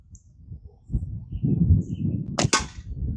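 A bow is shot, giving a sharp, close double snap of string release and impact near the end, over faint low rustling and a few distant bird chirps.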